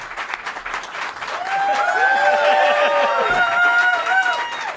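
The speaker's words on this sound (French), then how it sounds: "On accueille, sous un tonnerre d'applaudissements," A studio audience bursts into loud, sustained applause to welcome a sports guest, the clapping building after a quiet start and mixed with whoops and cheering voices.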